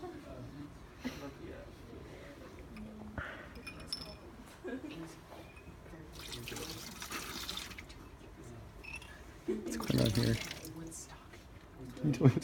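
Excess acid is poured out of a container during a titration lab, giving watery trickles and glassy clinks, with a louder splashing burst near the end, under ongoing talk.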